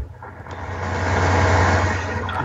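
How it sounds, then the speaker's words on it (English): A truck drives past with a steady engine rumble that swells to a peak midway and then eases off slightly. "Random truck."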